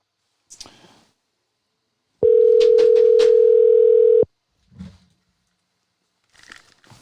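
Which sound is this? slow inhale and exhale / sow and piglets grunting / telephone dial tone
telephone dial tone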